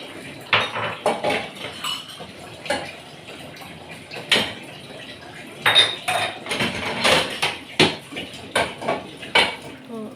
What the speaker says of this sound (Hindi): फिर मैं थोड़े से बर्तन धो लेती हूँ